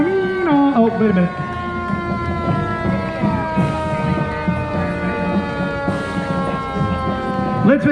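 A DC Fire and EMS emergency vehicle siren wails loudly and close at a Washington DC cherry blossom parade, its rising and falling tones sweeping steadily over crowd noise and voices.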